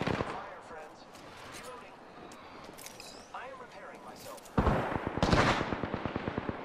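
Gunfire in a video game: sporadic distant shots and impacts under quiet talk, then a loud close burst of rapid automatic fire near the end, its rhythmic cracks repeating evenly.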